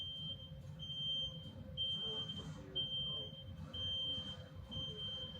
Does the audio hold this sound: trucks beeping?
yes